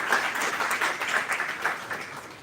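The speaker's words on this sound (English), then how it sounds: "give a big round of applause for our" Applause from an audience at a university event honouring its council, brisk clapping swelling and dipping in waves, fairly close and continuous.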